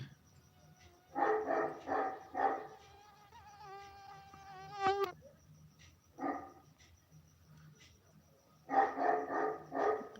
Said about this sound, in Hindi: कोई आ जाता है ना, बहुत भौंकता है।